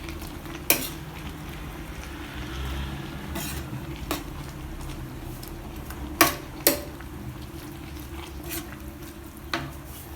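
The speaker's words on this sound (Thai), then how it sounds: "ก็คอยผัดไปเรื่อยๆนะฮะ ถ้าน้ำแห้งก็เติมน้ำนะฮะ" Pork relish being stir-fried in a pan, a low steady simmer broken by a few sharp clinks of a utensil against the pan, with no talking.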